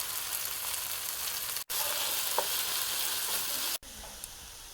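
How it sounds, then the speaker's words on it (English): Vegan Sicilian caponata with tomatoes, capers and olives fries in oil in a covered pan, giving a steady, loud, even sizzle that cuts out briefly twice. "See all that beautiful frying on the sides?"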